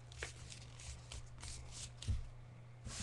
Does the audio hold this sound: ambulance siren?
no